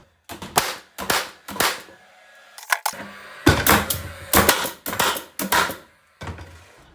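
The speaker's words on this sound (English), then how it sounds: "Finally, I test fire the tools to check they are functioning correctly." Paslode cordless Impulse framing nailer and straight brad nailer are test fired, giving a series of sharp, loud pneumatic-style bangs and clacks in uneven bursts, close up and without talking.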